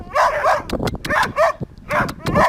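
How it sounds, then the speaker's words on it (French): Small dogs whimper and yip close by in several quick bursts of high, whiny cries, with short sharp yelps between them and no talking over them. "Et belle les petits chiens."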